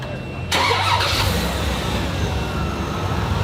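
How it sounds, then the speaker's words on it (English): A truck engine is cranked and fires up with a Milwaukee jump starter, jumping from quiet to a loud, broadband engine roar that settles into a steady running drone. "we're gonna turn this motor over"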